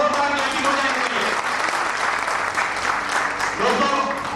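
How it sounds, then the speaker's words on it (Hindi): Loud, sustained applause from an audience greeting a company guest at a stage program, a dense steady patter of many hands filling the whole stretch. "एक बार जोरदार ताली हो जाए"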